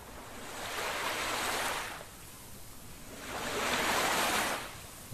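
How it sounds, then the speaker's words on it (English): Sea waves wash in soft and steady, with two slow swells surging and receding over a constant hiss of surf, fairly quiet and with no voices. "Perhaps I also like to hear some sea."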